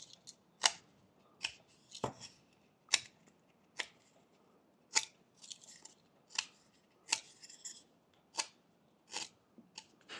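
A knife whittles a wooden whale in a series of sharp, crisp slicing cuts about once a second, close and alone, with softer scraping between strokes.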